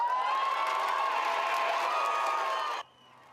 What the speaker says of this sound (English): Yeah, happy crowd right there.